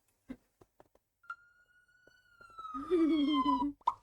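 A fire engine siren from the GTA video game starts with a few short clicks, then a rising wail holds and builds into a loud warbling tone before cutting off abruptly, with no talk over it.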